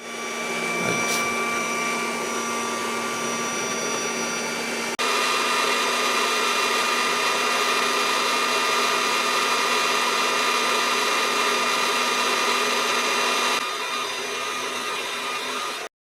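A heat gun blows steadily while heating a steering ball joint on a Dacia Sandero, a constant loud airy whir that runs on without a break and drops a little near the end.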